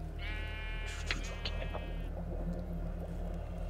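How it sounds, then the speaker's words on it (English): A sheep bleats in the Minecraft Tekkit modpack at night, one drawn-out wavering bleat, loud and close, over a constant low droning hum with a few short clicks afterward. "Sounds like a sheep."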